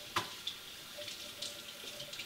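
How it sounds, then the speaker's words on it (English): A kitchen sink tap runs water onto a cloth, giving a steady close splashing hiss with small irregular drips and spatters. "you want to bring it over to the sink, and you want to run it under water"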